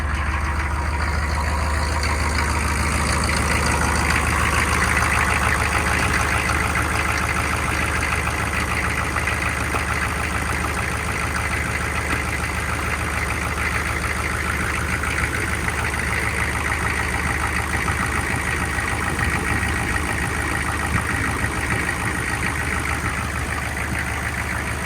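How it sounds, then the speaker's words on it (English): A 6.5L diesel truck engine idles steadily after a dual thermostat replacement, a loud, even rumble with a faint knocking texture that holds unchanged throughout, with no voices. "Fire it up quick, purge some air out of that cooling system"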